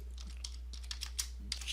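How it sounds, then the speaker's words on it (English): Computer keyboard typing a message, a quick, close patter of light key clicks over a steady low electrical hum, with no other sound. "click on let's send Jeff a message"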